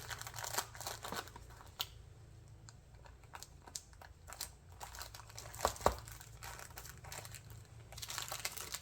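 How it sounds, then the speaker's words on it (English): Scissors snip and trim excess plastic from small handmade resin Halloween ghosts, giving quiet crinkly cuts and crisp clicks scattered across a hushed workspace, with sharper snaps near the end. "I may actually just come through with my scissors and trim those off, that plastic."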